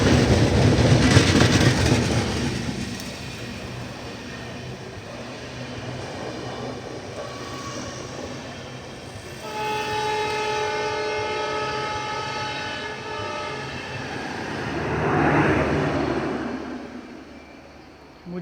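A train passes near Mangaluru Central after a reversal, with a loud rumble of wagons close by, then a sustained multi-tone horn blast midway and more rolling noise building again toward the end.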